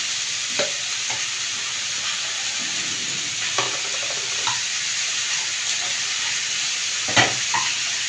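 A pan of vegetables, potato, capsicum and tomato, being stirred, with soft scraping stirs and a steady frying sizzle underneath, a few louder clinks and knocks of the utensil scattered throughout.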